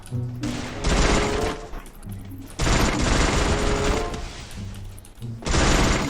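Bursts of automatic gunfire from the battle-royale game Free Fire, three long loud volleys separated by brief quieter gaps, close and aggressive, with no voices.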